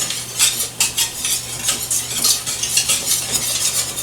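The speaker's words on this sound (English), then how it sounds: "you just want to stir vigorously You don't want that flour to burn" Vigorous stirring of a flour roux in a metal soup pot, a spoon scraping and clinking against the sides in quick repeated strokes, close and fairly loud with no talk.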